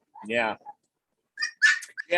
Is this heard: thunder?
no